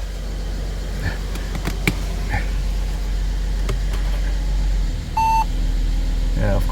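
A Mercedes GLE350 engine idles steadily at low revs, a constant low rumble running throughout, with a short electronic beep near the end and brief talk underneath.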